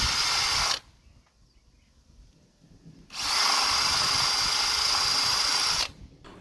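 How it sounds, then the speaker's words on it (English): A power drill drilling pilot holes for mounting a solar-powered motion sensor whines at high speed in two bursts, the first short and the second about three seconds long, separated by a quiet pause. "use the template as guide to drill pilot holes for device mounting"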